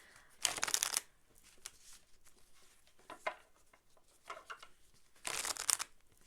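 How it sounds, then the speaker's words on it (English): Starspinner tarot cards being shuffled and pulled, close and quiet, with two short bursts of riffling papery shuffles and soft card slides and taps between them. "Let's just pull a couple more cards."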